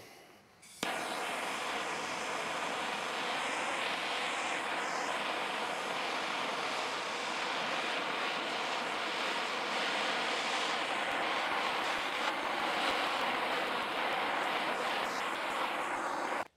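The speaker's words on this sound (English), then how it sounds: "this is gonna take a really long time with this little torch" A small hand-held propane torch burns steadily with a constant roaring hiss, starting abruptly after a short quiet moment and holding an even, close, broadband rush to the end without any talking.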